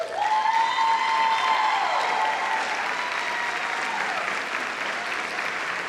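Sustained applause from an audience at a school teacher-of-the-year celebration fills the room evenly, a steady wash of many hands clapping with faint whistles over it.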